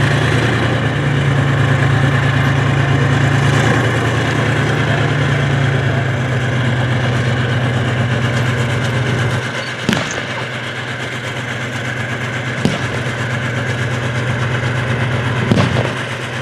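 Armoured fighting vehicle engines idle at a British Army display, a loud steady low rumble that holds throughout, with a few sharp clanks and knocks toward the end.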